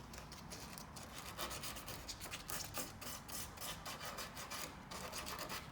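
Emery cloth scuffing painted car metal inside a Honda CR-V spare tire well, a continuous close rasping rub with rapid back-and-forth strokes.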